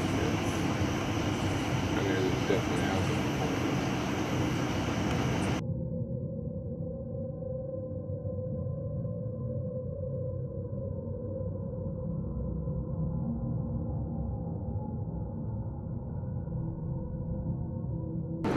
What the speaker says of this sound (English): There's literally a train that just went above us.